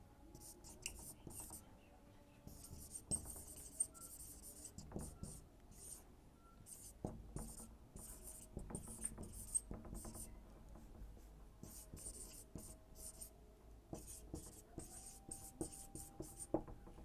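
A pen scratches out example sentences on a board or paper during a grammar lesson, with steady faint strokes and taps continuing for a long stretch in a quiet room.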